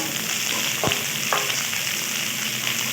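Chopped yardlong beans and pointed gourd fry in a pan for a rustic village summer-vegetable dish, giving a steady, close sizzle with a couple of brief stirring scrapes.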